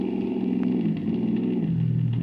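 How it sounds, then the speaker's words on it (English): A troubled airplane with skipping motors drones in a radio comedy sound effect, a steady low engine hum that wavers and sputters, moderately loud with no talk. "You hear an airplane in trouble overhead? Yeah, I do. I hear it. Yeah, motors are skipping,"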